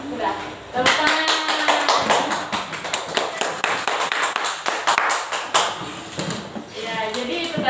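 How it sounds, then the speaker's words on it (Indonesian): Students in a classroom clap their hands during a lesson on the Qur'an, a dense run of sharp, close claps lasting several seconds, with some voices talking underneath. "Tepuk tangan."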